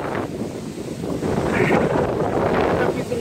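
Strong wind and rain on a stormy day roar across the microphone in a continuous rushing buffet, swelling louder midway with no clear voices.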